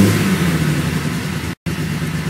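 Nissan Datsun L30 straight-six fitted with triple Mikuni 44PHH carburettors being revved, a loud, close mid-pitched engine roar with a brief cut-out before it picks up again.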